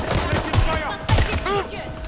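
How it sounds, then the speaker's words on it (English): Gunfire in Watch Dogs: Legion: a few sharp bursts of shots, loud and close, set against game effects and music. "I'm taking fire!"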